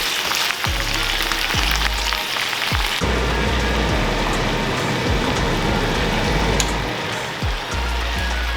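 A steady, dense crackle and hiss of jerk chicken sauce bubbling in a pan, continuous and fairly loud with no voices.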